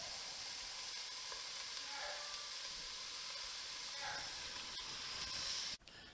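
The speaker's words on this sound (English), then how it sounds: "And then we're going to add 3 cups of beef broth." Beef broth poured over seared steak and meat for Texas chili, giving a quiet, steady sizzle and hiss of liquid hitting a hot pot that stops with a soft knock near the end.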